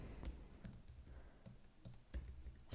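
A command being entered at a Linux terminal comes through as scattered, fairly quiet computer keyboard taps with short pauses between keystrokes, close but faint, and no talking.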